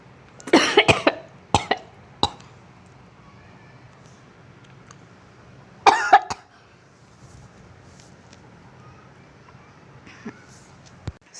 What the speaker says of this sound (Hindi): थोड़ा सा मुझे खांसी आ गई थी